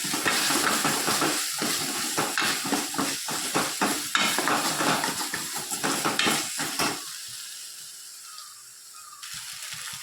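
Loud sizzling masala with ginger garlic paste frying in a pan for prawn curry, with repeated scraping stirs of a spoon for several seconds before settling into a steady hiss.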